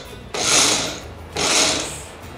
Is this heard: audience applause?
no